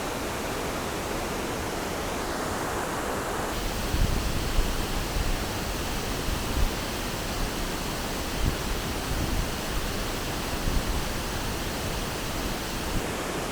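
Steady, dense rushing water roars without a break, a broad hiss like a nearby waterfall pouring continuously, with no voices.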